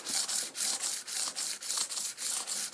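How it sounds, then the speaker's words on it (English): Sandpaper is rubbed back and forth over the fretboard of a Telecaster-style guitar neck, a soft, close, rhythmic scratching in about ten even strokes with no voices. "The fretboard is given a light sanding to improve feel under the fingers"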